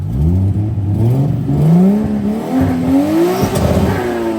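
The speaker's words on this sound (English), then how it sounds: "Would your neighbors hate me if I revved it?" A Nissan Skyline R32 engine revs hard several times, pitch climbing and falling in loud, close surges with no one talking.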